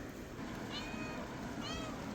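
A small kitten stuck inside a sofa gives two high, thin meows about a second apart, heard over a steady background hiss in a home in the hills.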